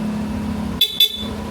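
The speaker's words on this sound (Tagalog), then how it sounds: "Yan, gumagana yung stock horn, may selector." The stock horn of a Yamaha Nmax motor scooter gives two short, sharp honks close by, separated by a brief gap, over a low idling hum.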